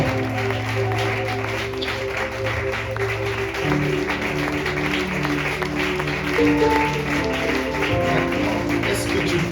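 A church congregation claps and cheers for the Lord at a worship service, a steady wash of many hands under a sustained musical backdrop with faint voices mixed in.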